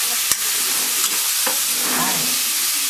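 Bicol Express sizzling steadily in a frying pan while being stirred, a constant loud hiss of frying with occasional scraping clicks of the spoon, no talking.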